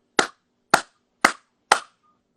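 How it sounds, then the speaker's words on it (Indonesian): Four loud, sharp hand claps spaced about half a second apart, each crisp and close with a quick decay, with no talking around them. "Kenapa kita bisa tepuk tangan?"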